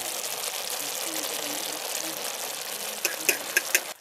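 A pot of food gurgles and bubbles on a camping stove at a caravan site, a steady close hiss and simmer, followed by a few sharp clinks near the end.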